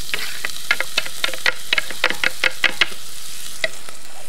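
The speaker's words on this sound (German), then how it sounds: "in einem Topf mit heißem Butterschmalz anbraten" Shallots sizzle in hot fat with sharp crackles and pops scattered across a few seconds, close and fairly loud, no voices.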